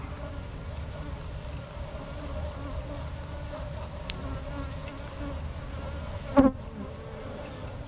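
Honeybees buzz steadily in a continuous drone, close and moderately loud, with one brief louder thump near the end.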